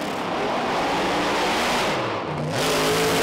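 A supercharged Pro Mod drag racing car launches hard at a British Drag Racing Championship round, its loud engine roaring continuously with rising and dipping pitch as the throttle changes.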